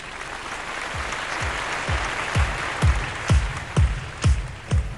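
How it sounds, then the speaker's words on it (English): Audience applause at the Kohler Bold Design Awards, a broad steady patter of many hands clapping, with a series of sharp thumps repeating about twice a second through the applause. "give all the winners a big round of applause"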